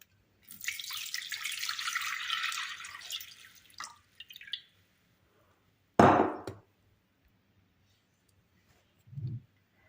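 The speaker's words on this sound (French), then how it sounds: "je vais mettre tout d'abord 300 grammes d'eau" Water runs into a pan for baba syrup in a home kitchen: a steady splashing pour lasting about three seconds, then a few light clinks and a short thud, with no talk.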